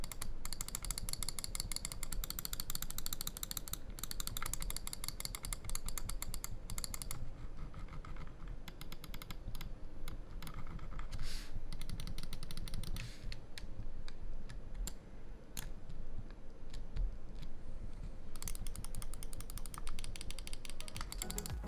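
Rapid, crisp clicking from a Glorious Model O Wireless gaming mouse, a steady run of close, dense clicks with brief pauses, sounding almost like typing.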